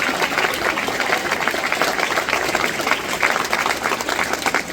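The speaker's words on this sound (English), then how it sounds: "And so just a round of applause and a thank you to the band boosters." Sustained, dense applause from an audience at a high school winter band concert, many hands clapping continuously and loudly throughout, with faint crowd murmur beneath.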